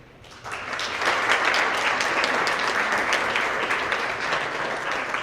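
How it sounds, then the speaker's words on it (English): Applause rises sharply from a school award assembly for middle-school PE and other award winners, a dense, steady wash of many hands clapping at moderate distance that holds strong to the end. "And one last round of applause for our PE winners and all of our second winners."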